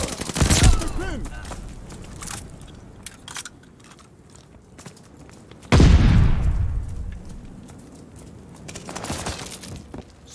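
A grenade explosion and bursts of gunfire in Call of Duty Vanguard multiplayer, with a loud blast midway that decays into a long rumbling tail, surrounded by sharper shots, some near and some distant.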